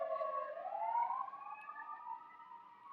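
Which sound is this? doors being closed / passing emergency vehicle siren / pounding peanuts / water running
passing emergency vehicle siren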